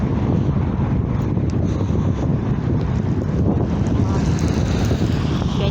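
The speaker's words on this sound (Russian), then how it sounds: "Опять ветер поднялся." Strong wind blows outdoors near a construction site by Arena Omsk, a constant loud, broadband rumbling roar across the microphone with no let-up.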